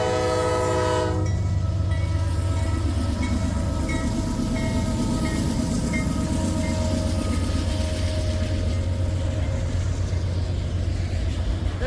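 A Norfolk Southern freight train with auto rack cars rolls past nearby, its horn sounding at the start, then a steady heavy rumble with rhythmic wheel clatter and squealing that carries on throughout.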